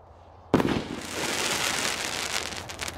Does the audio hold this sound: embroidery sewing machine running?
no